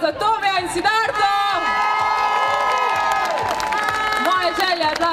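A crowd claps and cheers at a public welcome celebration for skier Tina Maze in Črna na Koroškem, with loud whoops and shouts riding over a rock band's sustained chords and drums.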